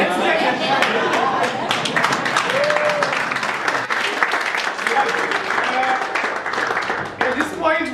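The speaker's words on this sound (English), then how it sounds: "Let's clap for him. In fact, let's have a standing ovation." Audience at a leadership development session gives a standing ovation, with loud sustained clapping, scattered whoops and crowd chatter mixed in, holding steady before briefly dipping near the end.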